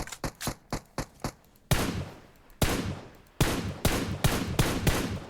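Video game shootout gunfire: a run of sharp, evenly spaced single shots, then louder, fuller blasts that follow one another more quickly, each ringing out with a short decay and no talking.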